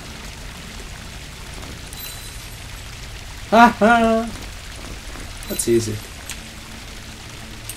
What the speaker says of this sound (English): You have transferred water to the dry well.